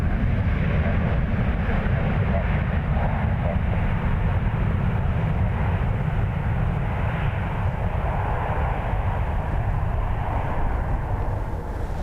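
An airliner's engines roar steadily on a takeoff roll at Dublin Airport in high winds. The loud, broad rumble is sustained and dominates throughout, with wind noise mixed in.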